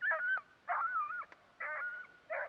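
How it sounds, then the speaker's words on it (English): A small puppy barks at a canvas tent campsite, giving four short, high yipping barks with brief pauses between them, fairly close and with no talking. "She's just a little pup. She goes with them. She barks every now and then."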